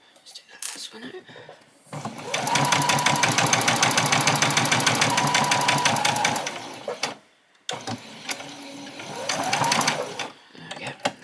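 A sewing machine stitches an apron, running in a long steady burst of rapid needle strokes, stopping briefly, then running again in a shorter burst, loud and close with no talk over it.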